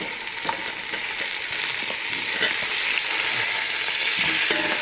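Tomatoes and masala fry in a pan for mutton biryani, giving a steady, close hiss with soft scrapes of stirring scattered throughout and no voices.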